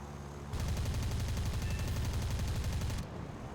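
Rapid machine-gun fire from a MiG-3-34 fighter strafing a G4M1 bomber in War Thunder, a dense sustained burst of about two and a half seconds that starts and stops abruptly over steady engine drone.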